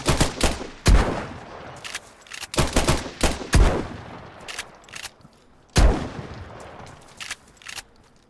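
Gunfire in the video game DayZ, a burst of loud sharp shots in irregular clusters, some in quick succession and others spaced apart, with short gaps of quiet between.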